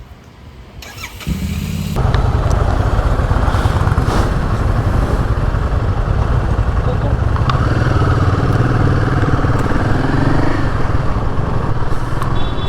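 Royal Enfield motorcycles gathered for a group ride rumble loudly nearby; after a quiet start, one engine fires up and settles into a deep, steady idle, with voices under the noise.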